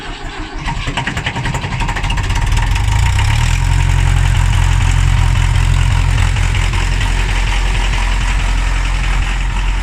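An FE35 industrial four-cylinder engine without glow plugs catches from a cold start on a start-assist spray, then settles into a loud, steady, close idle with a rough, rapid chugging beat.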